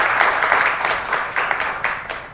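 Audience applause at a panel discussion forum on youth jobs and startups, a short burst of clapping from a crowd that pulses with each round of claps and fades slightly toward the end.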